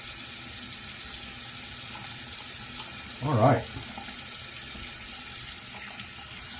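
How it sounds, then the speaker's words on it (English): A bathroom tap runs steadily into a sink, a constant hiss of water with a brief short phrase spoken over it midway. "Sorry, I left that water running."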